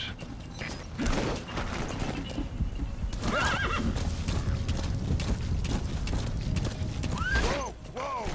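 A horse in the video game Metal Gear Solid 5 neighs loudly several times while its hooves clip-clop at a gallop, joined by creaking and mechanical clanks, close and busy throughout.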